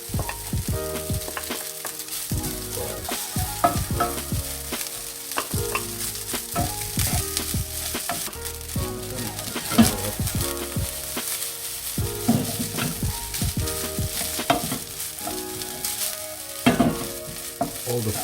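Garlic rice sizzles and fries in a pan for a traditional Filipino breakfast, with repeated scraping and clattering stirs over a steady close crackle.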